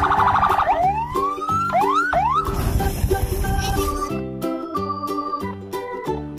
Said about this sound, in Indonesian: Di sini ada mobil truk pemadam kebakaran.